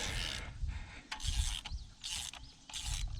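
A hand ratchet works spark plugs loose from a Chevy engine, giving bursts of quick rasping clicks separated by short pauses, several rounds close to the microphone at low volume with no talking.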